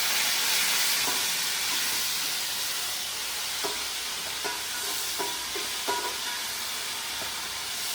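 Mint and coriander fry in hot oil in a pan with a steady, loud sizzle throughout, broken by several soft knocks and scrapes as a spoon stirs the leaves.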